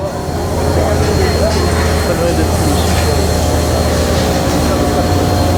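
Loud, continuous engine roar from sports cars such as a Ferrari F430 racing on the track at the Le Mans Classic 2023, a steady close drone with no break throughout.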